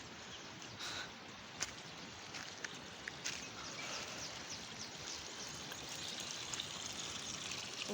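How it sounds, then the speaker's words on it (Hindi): Spring water pours and trickles steadily from a mountain chashma in Neelum Valley, Kashmir, a constant splashing flow with occasional knocks and footsteps nearby. "ये है चश्मा, यहाँ से हम हाथ मुंह धोएंगे।"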